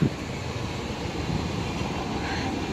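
An RER commuter train passes at a distance in Arnouville-lès-Gonesse, France, a faint steady rushing rumble with a brief bump at the start, no voices.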